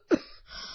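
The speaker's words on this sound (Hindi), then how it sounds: "आपको तो बहुत खांसी हो रही है" A single short, sharp cough close up, followed by a brief quiet tail.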